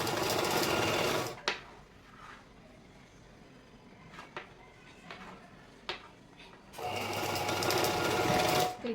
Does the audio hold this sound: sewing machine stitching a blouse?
yes